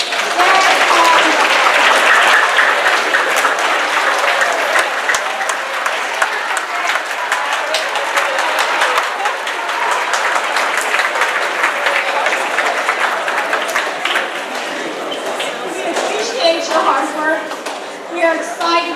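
A large audience stands and applauds at a junior academy science meeting's opening session, loud sustained clapping with some cheering and crowd noise throughout.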